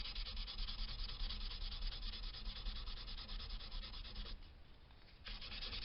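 A wooden guitar neck shim is hand-sanded with 800-grit paper, a close, steady raspy rubbing in continuous back-and-forth strokes, with a brief pause near the end before it resumes.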